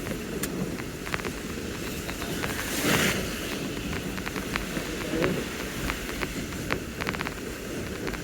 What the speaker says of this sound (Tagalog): Lamig na hangin.